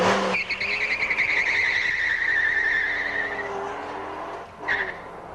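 A 1993 Formula SAE race car skids around a skid pad with a long, loud tire squeal over its engine. The squeal fades and then briefly returns near the end.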